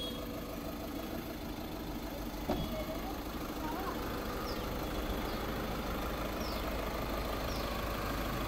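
A 1.5-litre TDI diesel engine in a 2016 Volkswagen Vento Highline automatic idles with a steady, even rumble, close and continuous, with a brief knock partway through.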